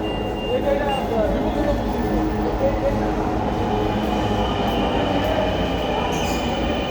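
Steady rumble of a metro train moving through Mirpur 10 metro station in Dhaka, Bangladesh, with a faint high wheel squeal and a low mechanical hum throughout.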